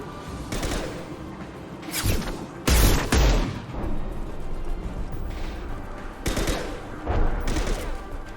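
Video game gunfire in Mass Effect 2 during a firefight: repeated bursts of shots and heavy impacts, with a loud boom near the middle, dense and continuous throughout.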